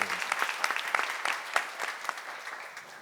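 An audience at a church seminar breaks into applause, dense and fairly loud at the start, then gradually thinning and fading over a few seconds, with no talking.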